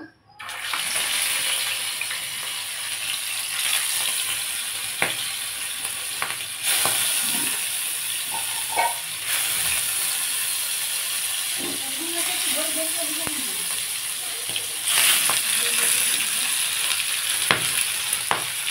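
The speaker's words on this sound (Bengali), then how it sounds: "মাছগুলো কেমন ফাটতে শুরু করে দিয়েছে" Pieces of catfish fry in hot oil in a pan with a lid nearby, giving a loud, continuous sizzle with bursts of spluttering and popping throughout.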